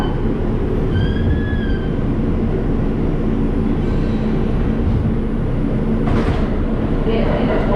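An R142 express subway train on the 5 line runs steadily in the foreground, a loud continuous rumble of wheels and motors with faint squeals and a brief higher screech near the end, no talking.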